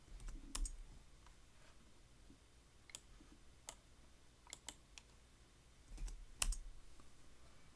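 Quiet, sparse typing on a computer keyboard, with scattered individual key clicks at an irregular pace and no voices.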